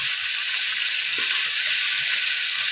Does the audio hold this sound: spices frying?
yes